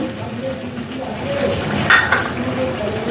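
A spoon stirs fried onions with whole coriander, cumin and ground cardamom into chicken curry in a clay pot, giving a soft scraping churn with a gentle sizzle and a couple of light utensil clinks.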